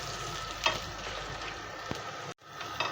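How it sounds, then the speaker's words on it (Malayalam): Sliced onions frying in oil in a pan for an ivy gourd and potato dish: a steady close sizzle with a few soft stirring clicks, briefly cut off near the end before resuming, with no voices. "അപ്പം ഞാൻ ഇതിനകത്തോട്ട് സവാള ഇടുകയാണ്."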